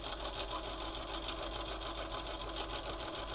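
Sewing machine running steadily while stitching soft fleece fabric for a fold-over junk journal cover, a fast even mechanical whir with regular rhythmic pulsing throughout, close and continuous with no talk.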